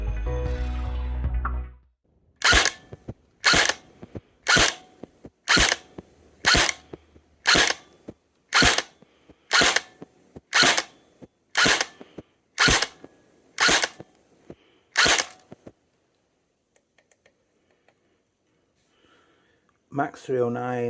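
E&C Strike Patriot PDW airsoft gun fired in a row of thirteen sharp, evenly spaced single shots about one second apart over a chronograph, close and loud, followed by near silence.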